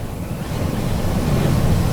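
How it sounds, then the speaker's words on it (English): Strong wind roars steadily around a hunting blind on a deer hunt, a continuous low rushing gust noise buffeting the microphone at close range, with no talking. "that cotton picker wind is howling out there"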